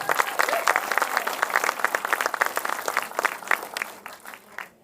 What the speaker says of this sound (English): Big round of applause for all of our candidates